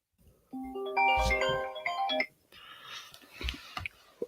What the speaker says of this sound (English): Getting calls on FaceTime midstream.